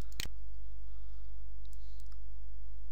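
A single sharp computer mouse click lands near the start, followed by a couple of faint lighter clicks later over a steady low hum while working in Microsoft Word 2007.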